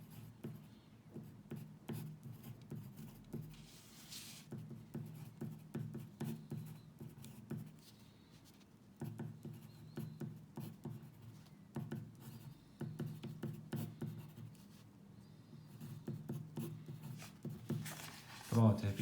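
A pen or chalk scratches out a derivative equation by hand, steady rhythmic strokes and taps repeating across the span, close and quiet under a low hum of a teaching room.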